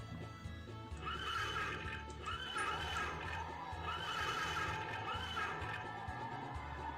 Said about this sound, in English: The horses in my ear sound horrifying.